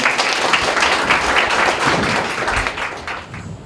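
Audience applause at a Korean high school taekwondo poomsae team founding ceremony, a thick, loud clapping crowd sustained for several seconds before tapering off.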